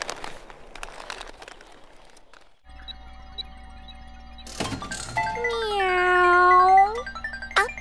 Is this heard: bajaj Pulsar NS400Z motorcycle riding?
no